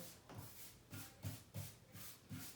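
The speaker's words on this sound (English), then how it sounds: "And with a very light sanding" Light hand sanding on chalk-painted wood: about six soft, rhythmic back-and-forth rasping strokes, close up and fairly quiet, with no talking.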